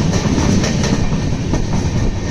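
Bagyanagar Express train pausing at Odela station in Telangana, giving a loud, steady rumble of rolling wagons with a low clattering of wheels throughout, and no voices.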